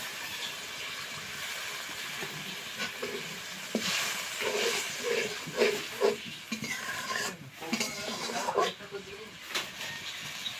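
Water splashed into frying masala for ilish (hilsa) biryani gravy sets off a steady hiss and bubbling simmer, with voices talking over it throughout.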